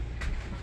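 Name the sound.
garbage truck outside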